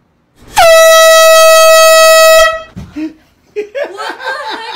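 C-Sense air horn gives one very loud, sustained blast of about two seconds at close range, followed by startled laughter and voices.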